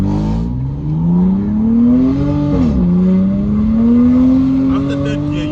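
A BMW M3 F80 with an equal length exhaust revs up in rising sweeps, dipping once before climbing again, loud and close with raspy crackle, while a voice talks over it.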